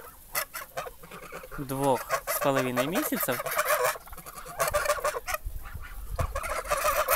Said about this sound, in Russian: Вот такие уже гусята. Это гусята ландес.